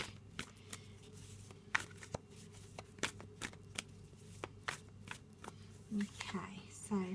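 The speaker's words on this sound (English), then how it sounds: "let's give them a little shuffle" Tarot cards riffle and shuffle close up in a quiet room, a series of crisp flicks and soft slaps repeating irregularly.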